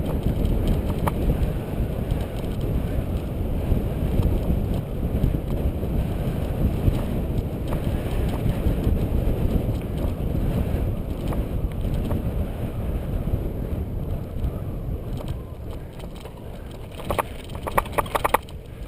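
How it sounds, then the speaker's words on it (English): Steady, heavy wind rumbles and buffets across the microphone outdoors at Weeki Wachee Preserve, loud and constant, with a few sharper gusts near the end. "Windy."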